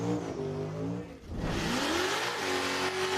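At the Summernats burnout competition, a car engine revs hard and steady with rising and falling pitch under a wash of crowd and tyre roar, loud and continuous from close range.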